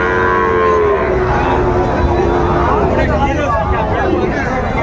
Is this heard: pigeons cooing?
no